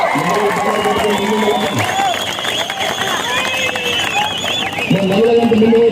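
A large crowd at a political rally claps and cheers, a dense roar of voices and shouts filling the whole stretch.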